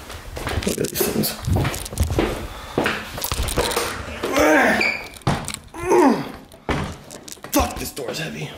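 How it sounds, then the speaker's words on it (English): A heavy door swings open and shut with dull wooden thunks and a thud, among footsteps and rustling while people talk nearby. "this door's heavy."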